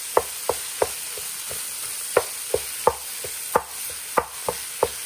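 Ground pork and beef being broken up and stirred in a pot, a dozen sharp scraping taps from a utensil against the pot in an uneven rhythm, close and fairly loud with no talking.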